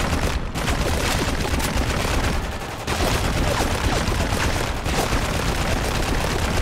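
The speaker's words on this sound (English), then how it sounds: "Guys, he's shooting at me." Sustained, dense gunfire from Spec Ops: The Line, with steady overlapping shots and bursts, loud and close, broken by a couple of brief lulls.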